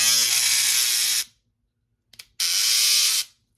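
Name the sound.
BaBylissPro electric razor running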